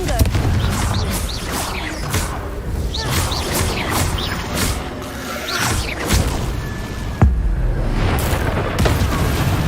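Fire-spell blasts from the Confringo charm in the Hogwarts Legacy video game, a dense run of booming impacts and crackling bursts with one sharp bang, layered under game effects and some voice.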